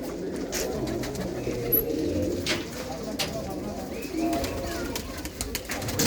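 Pigeons cooing and fluttering at a pigeon-keeping group's loft as birds, including a black Chinese-type hen pigeon, are caught by hand; soft coos and bird sounds run steadily under a low, busy background.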